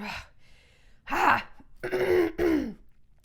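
Several harsh coughs and throat-clearing bursts in a row, close up, separated by brief pauses with no talking.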